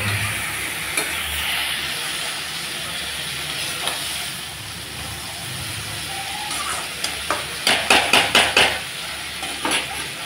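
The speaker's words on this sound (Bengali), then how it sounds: "এখন উল্টে পাল্টে ভাজা করে দিই।" Shrimp coated in spices frying in a pan, a steady low sizzle with stirring, then a burst of sharp metallic scraping clinks near the end as the pieces are turned over.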